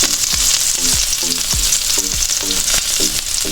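Garlic and onion frying for pinakbet, a loud, close, continuous sizzle with a regular beat of spatula strokes scraping the pan about twice a second.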